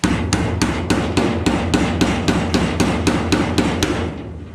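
Ball peen hammer shaping sheet metal in a garage, struck in a steady run of about sixteen sharp, ringing blows at a quick even rhythm, close and loud with no talk.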